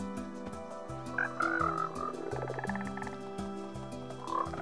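Frogs croaking in a Lord of the Rings Shire-building video game, a continuous layered chorus of rhythmic low croaks with game music, steady and moderately loud, no talking.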